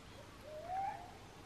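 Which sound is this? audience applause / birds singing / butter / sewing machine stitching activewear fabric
birds singing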